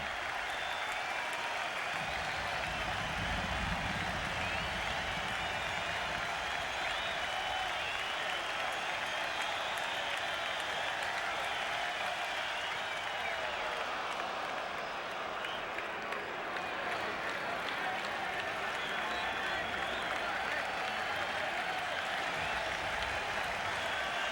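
Baseball crowd at a 1999 Red Sox home game against the Blue Jays applauds and cheers steadily as Pedro Martinez pitches for a strikeout, a dense sustained roar heard from a distance at low level.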